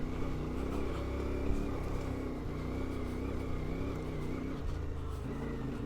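A CFMOTO Ibex 450 motorcycle rides off-road over rocky, shaly ground in Death Valley during break-in, its engine giving a steady, close, continuous drone with slight shifts in pitch.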